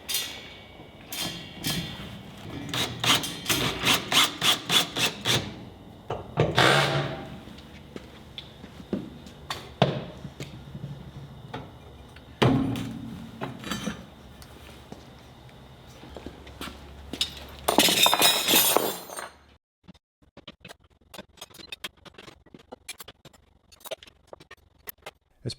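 Combination wrenches, including ratcheting ones, clinking and clanking as they are hung one after another on a wall-mounted tool rack, with bursts of rapid metallic rattles and scattered knocks, then quieter sparse ticks at the end.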